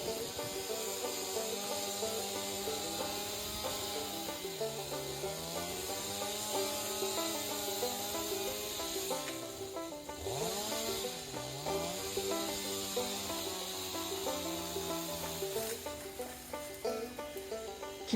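A chainsaw cuts through the forked trunk of a large fallen chestnut tree, its engine whining steadily throughout with pitch sagging and recovering as the bar bogs down in the wood.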